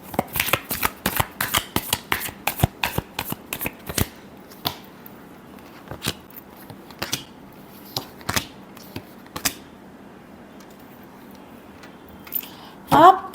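Tarot cards are shuffled in quick bursts of crisp, riffling slaps, dense at first and then thinning into scattered single snaps over a quiet background.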